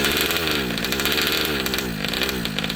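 An ALX 71CC chainsaw engine runs close and loud at a rough, buzzing idle as it runs out of fuel, with an uneven pulsing rhythm throughout.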